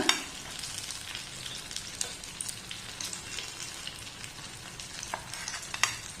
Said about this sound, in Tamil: ரெண்டு சைடும் நல்லா சிவந்து வேகட்டும் ஒரு நிமிஷம் வெயிட் பண்ணலாம்